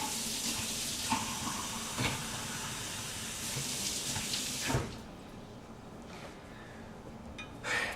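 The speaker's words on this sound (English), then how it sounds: "now I'm gonna rinse this off" Food being rinsed under a running kitchen tap: a steady, fairly close gush of water that drops to a quieter trickle partway through, with a few brief clatters and no voices.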